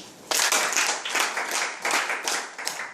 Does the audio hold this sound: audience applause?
yes